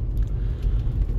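A 2013 Peugeot Partner van moving fast on the road, heard from inside as a steady, loud, low engine and road rumble with no talk.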